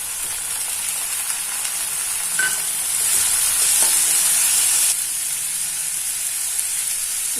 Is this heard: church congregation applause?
no